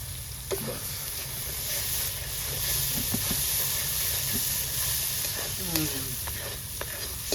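Spice masala fries in oil for a country chicken curry, a constant hissing sizzle with occasional stirring scrapes and small knocks of a spoon against the pan.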